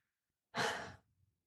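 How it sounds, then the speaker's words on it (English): A single quick, audible breath drawn in and let out as a sigh by a podcast host, close to the mic and alone against silence, lasting about half a second. "Let's just take a quick breath."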